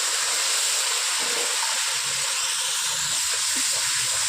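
Water poured into a hot cooking pan holding ginger paste and coriander powder for a mixed vegetable dish gives off a steady, loud sizzling hiss that holds unbroken for several seconds.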